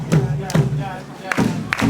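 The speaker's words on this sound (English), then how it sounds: "You may clap." Audience clapping along to a West African Lamba performance, four heavy, evenly spaced beats roughly every 0.4 seconds, each a loud thudding clap with a low drum-like body, close and distinct.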